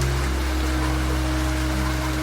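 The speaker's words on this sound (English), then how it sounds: "The sound of the rain." Rain patters steadily against a train window on the Coastal Pacific Express at night, a dense, even hiss under a constant low hum of the moving train, with no voices.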